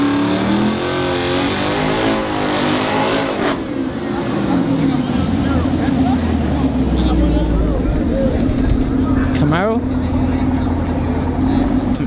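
A silver BMW and a Camaro street racing at a takeover, engines revving and roaring past loudly with rising and falling pitch, while a crowd talks and shouts over the noise.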